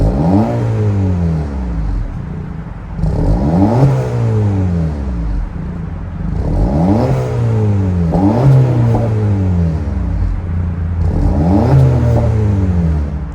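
2024 Acura Integra A-Spec 1.5-liter turbo four-cylinder with dual exhaust tips idling then revved repeatedly, four sharp throttle blips rising and falling in regular succession, loud and close with no talking.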